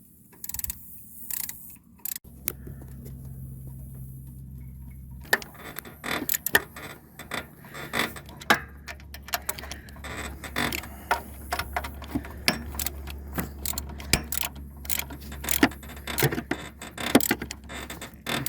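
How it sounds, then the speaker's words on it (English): Bolts go back into the water pump of a Chevy Sonic or Cruze 1.8 engine, with metallic clinks, scrapes and ratcheting clicks in irregular bursts close by, over a low steady hum. "So let's put the bolts in."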